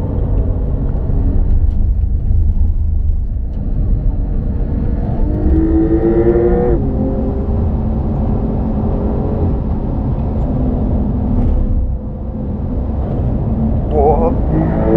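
A racing car engine on a racetrack, a loud continuous rumble that revs and climbs in pitch through the gears, heard from inside the car with a person talking over it.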